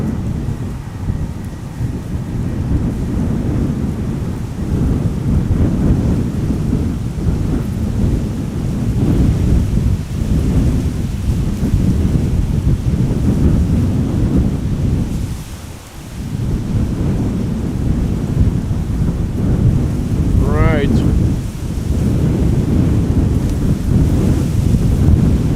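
Strong, relentless wind buffeting the microphone at an airport, a constant loud rumbling roar with gusty surges and a brief lull midway, no voices.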